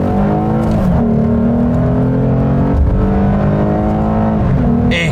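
A Lexus RC 350 AWD F Sport's V6 engine revs hard from inside the car, a loud continuous drone rising and shifting in pitch as the revs climb, with no talking.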